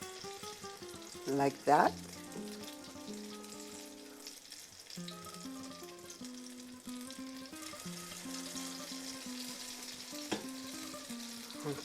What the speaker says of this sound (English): So I'm gonna spoon in right into the skillet